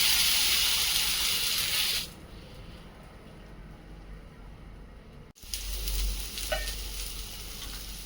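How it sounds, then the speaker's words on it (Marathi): Spinach mixed-flour paratha placed on a hot tawa, loud sizzling that drops off abruptly after two seconds, followed by a thud and renewed softer frying crackle with faint hiss. "पराठा थापून झाला आहे, तो आता तव्यावर टाकून घेऊ."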